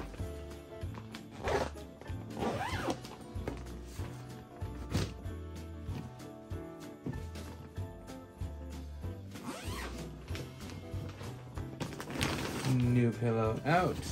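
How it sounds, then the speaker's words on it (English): A zipper on a pillowcase being zipped shut in a few quick, close rasping pulls, mixed with light fabric rustling and a person talking. "and zip it back up."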